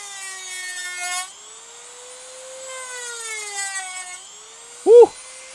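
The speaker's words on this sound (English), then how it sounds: "We're going to go ahead and chop these bolts off." A power tool cuts off bolts on a crossbow in short bursts of whirring, a thin high whine rising and falling between pauses, ending with a brief louder sound.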